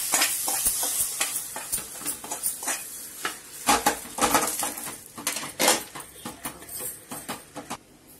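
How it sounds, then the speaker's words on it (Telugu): Hot tempering is poured and stirred into cooked amaranth dal in a pot, giving a soft sizzle with repeated scraping stirs and light clinks of a spoon against the vessel. "ఇందులో వేస్తున్నాను పప్పులో. పప్పులో ఉప్పు వేసాను"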